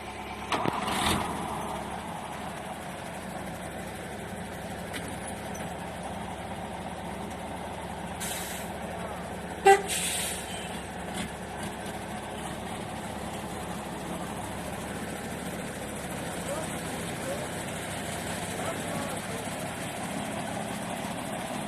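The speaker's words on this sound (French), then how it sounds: "on a un tracteur qui arrive pour nous sortir de cette merde" A tractor engine drones steadily as it arrives to pull a vehicle out of a snowy rut, a continuous low rumble with a few brief clanks and knocks, moderately distant and without speech.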